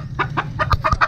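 A backyard Albany Sweater chicken clucks in a quick run of five or six short, close clucks with low thumps mixed in, and nobody is talking.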